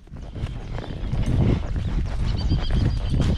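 A horse's hooves clip-clop at a steady walk on a farm pasture, close and fairly loud, over low rumbling movement noise.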